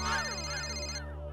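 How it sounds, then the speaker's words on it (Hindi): A telephone rings with a repeating electronic ringtone, steady and fairly loud at close range, its bright tone sounding without answer before cutting off near the end with no voices. "अरे घंटी बज रही है, फोन क्यों नहीं उठा रहा है?"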